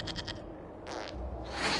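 A goat in a PlayStation 5 video game gives a brief nasal bleat, clear and near, set against a low game backdrop with a rising rushing noise after it.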